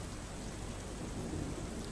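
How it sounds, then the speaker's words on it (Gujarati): Heavy rain pours steadily in Himmatnagar, Sabarkantha, with low thunder rumbling underneath, a dense, continuous wash of noise throughout. "ગાજવીજ સાથે વરસાદી માહોલ જામ્યો"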